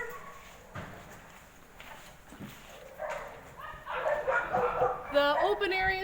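Dogs at an animal shelter yip and bark, faint at first and then growing busier and louder toward the end, under a speaking voice.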